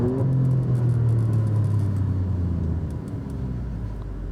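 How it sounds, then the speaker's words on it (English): An Alfa Romeo Giulia Quadrifoglio engine drones steadily from inside the car, a low rumbling hum with a gradually falling tone that eases slightly toward the end. "in a manual, you get the blips on the downshifts"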